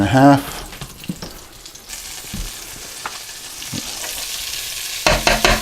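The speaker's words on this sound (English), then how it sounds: "I'm going to melt half that butter." Butter melting in a pan for a cauliflower rice mushroom risotto, a close crackling sizzle with scattered pops and spatula taps, a louder burst at the start and end.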